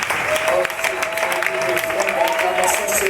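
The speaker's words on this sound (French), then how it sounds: "Nous allons acclamer ce matin notre Père spirituel et notre Mère spirituelle qui sont présents" Congregation applauding during a church service, acclaiming the spiritual father and mother: dense, steady clapping across the whole stretch, with voices mixed in.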